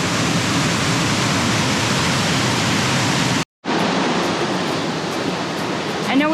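Loud, steady roar of a remote waterfall deep in the woods, a continuous broadband rush that cuts out for a moment and then resumes just as strong.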